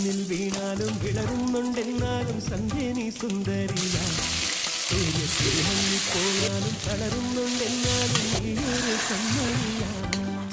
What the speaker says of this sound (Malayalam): കുറച്ച് തേങ്ങാക്കൊത്ത് ഇഷ്ടമുള്ളവർക്ക് അതുകൂടി മൂപ്പിച്ചിടാം.